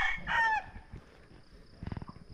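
A rooster crows briefly, then chickens and a hen cluck in a short burst of rapid, close calls against a quiet morning background.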